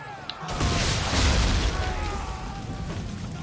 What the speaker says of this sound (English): then we can take them out with the swivel gun